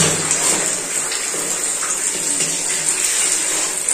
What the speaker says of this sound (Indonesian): Ini menunjukkan keran tertutup masih keluar air.